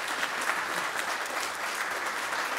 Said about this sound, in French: Applaudissons chaleureusement Michel Legagneur, notre brillant ingénieur,